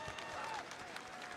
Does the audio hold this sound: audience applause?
yes